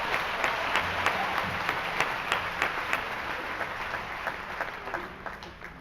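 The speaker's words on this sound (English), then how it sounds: "One last round of applause for the Claflin University Concert Choir." A commencement audience applauds a university concert choir, steady clapping with distinct individual claps standing out, gradually easing off toward the end.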